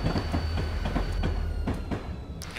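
A heavy diesel locomotive in the Train Simulator 2015 game, part of a consist with two engines at the front and two at the rear, rumbles steadily with a deep continuous drone and rhythmic clicking of wheels over rail joints.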